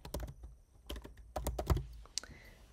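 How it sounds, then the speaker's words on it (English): Computer keyboard being typed on to enter a description in NVivo 15 on a Mac, a quick irregular patter of close, soft key clicks in short bursts, heard alone without speech. "I'll type in a description"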